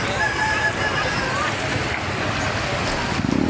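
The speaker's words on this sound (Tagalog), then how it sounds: "Ang lakas ng tubig." Strong river current rushing at a crossing near Daraitan, Tanay, Rizal, a steady broadband roar with wind buffeting the microphone and people talking over it.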